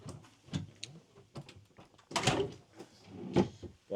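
Drawers under the booth of a 2005 Country Coach Inspire motorhome slide open and shut, giving several sharp knocks and sliding thuds in an irregular sequence at close range.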